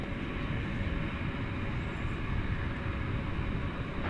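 A heavy FedEx jet at DFW Airport at night produces a steady, broad engine roar from a moderate distance, holding even without any voices.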